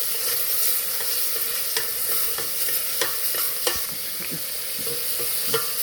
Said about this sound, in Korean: 고추를 뿌리고 고기가 익을 때까지 저어주세요